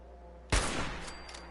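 A sniper rifle fires once in Fallout 4, a single sharp, loud crack that cuts through quiet background and then tails off in a short reverberant decay.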